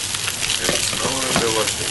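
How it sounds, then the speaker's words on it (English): Sliced jalapenos sizzle and crackle in hot oil beside boiling soup at an outdoor mushroom foray cookout, a steady dense frying hiss with scattered sharp pops throughout, close and fairly loud. "the jalapenos are popping, crackling, and the soup is boiling"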